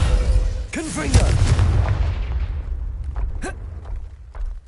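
Confringo fire-blast spell from the wizarding game Hogwarts Legacy on PS5, a heavy booming blast with rumbling low end. Other spell effects and whooshes mix in, then a few sharper pops and crackles trail off over several seconds.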